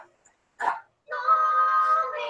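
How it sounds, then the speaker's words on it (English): A dog gives a short single bark followed by a drawn-out whine or yelp, close and fairly loud, with no talking. "That bark was well timed."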